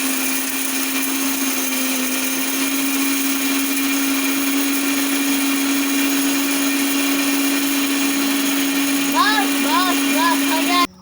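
An electric mixer machine grinding dry whole turmeric into powder, a loud, steady motor whine with a constant hum that runs without a break, while a person talks over it and then the motor stops.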